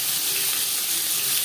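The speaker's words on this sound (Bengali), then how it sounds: "সরষের তেল গরম করে নিয়েছি। এবার দিয়ে দেব পেঁয়াজ কুচি।" Chopped onion hits hot mustard oil in a pan, giving a loud, steady, close-up sizzle and crackle that fills the whole moment with no voices.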